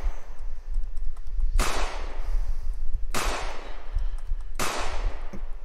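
Three evenly spaced cannon blasts in an Unreal Engine 4 game, each a sharp, loud boom that trails off quickly, over a low rumbling background.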